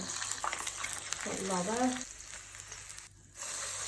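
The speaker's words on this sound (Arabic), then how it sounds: "اهم حاجه تبقى غطسه كلها في الزيت عشان خاطر كله يطلع لون واحد" Pieces of food fried all together, fully submerged in oil, give a steady sizzling hiss, with a voice speaking briefly over the frying.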